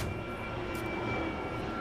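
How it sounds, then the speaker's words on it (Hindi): An airplane in flight shortly before a crash, heard as a steady broadband engine roar with a faint high tone, continuous and fairly distant, no talk. "कुछ इस तरह से यह विमान क्रैश हुआ।"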